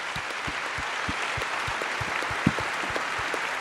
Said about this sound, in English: So that's why I wanted you to stop clapping